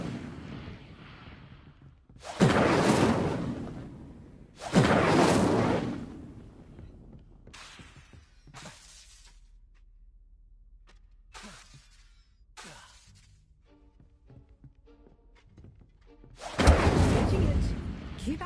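The Incendio fire spell in Hogwarts Legacy is cast several times, each a loud whooshing burst of flame lasting a second or two, separated by quieter gaps with some speech in between.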